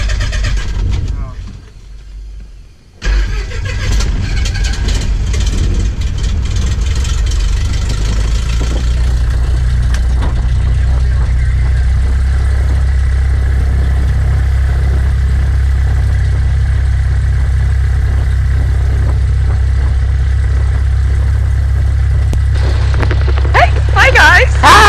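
An aircraft engine fires up after a short quiet moment and settles into a loud, steady, close idle drone, while people talk over it.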